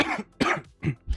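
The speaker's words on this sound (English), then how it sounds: "I still have this cough, this dry cough that has been lingering." A person's dry, lingering cough from a recent bout of flu, sounding as three or four short, harsh bursts in quick succession, close and fairly loud, with no talking.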